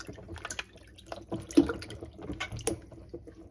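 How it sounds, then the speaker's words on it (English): Apples are rinsed under running water at a sink, with soft splashing, trickling and a few drips as the fruit is handled under the tap, fairly quiet and close. "You want to give your apples a good rinse."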